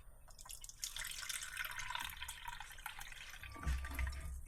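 Water pours steadily into the inner pot of an Instant Pot Rio 6 qt multicooker holding washed rice, a close, continuous splashing trickle that grows heavier and deeper near the end.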